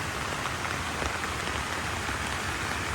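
Heavy rain pours down at a fishing lake, a dense, steady hiss of drops drumming on surfaces with no let-up, loud and close, with no voices.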